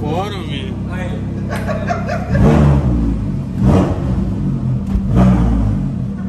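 Lamborghini accelerating, deep rumbling engine surges rising in several close bursts while people talk and laugh nearby.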